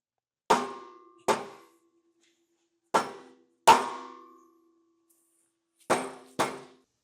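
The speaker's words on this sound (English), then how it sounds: "after some calculated hitting with the dead blow" A dead blow hammer knocks a tow bar base plate into position behind the bumper of a 2018 vehicle. Six sharp, ringing metallic strikes come close and loud, in irregular pairs, with quiet pauses between them.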